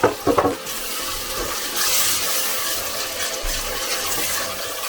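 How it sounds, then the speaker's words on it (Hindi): Chana daal masala frying and being stirred in a pan after a splash of water, with a steady close sizzle and a few scraping stir strokes at the start, and no talking. "इसको जी भून लें अच्छी तरह से।"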